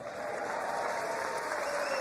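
Sustained applause from a large audience at the State of the Union speech, a dense even clatter of clapping filling the whole moment at steady loudness.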